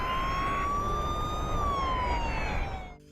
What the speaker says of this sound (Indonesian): Namun tiba-tiba terdengar suara sirine polisi.